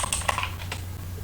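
Quick clicking taps on a computer keyboard, a short burst of several keystrokes, close and clear over a faint low hum.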